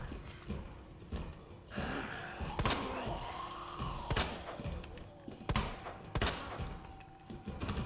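Gunfire in the video game Resident Evil 2, several sharp shots spaced a second or so apart over a continuous low game backdrop, with a voice sighing or gasping between them.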